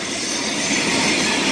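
Freight train hauled by SD40-3 locomotives rolling past close by, a loud steady broadband rumble and rush of wheels on rail with faint squeal, continuous throughout.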